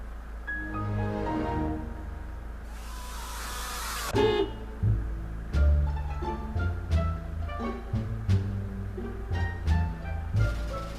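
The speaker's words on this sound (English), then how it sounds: "Everyone's beeping you now" Several car horns honk at a driver in UK traffic, a long blare followed by a run of short, loud beeps and toots over the steady rumble of idling vehicles.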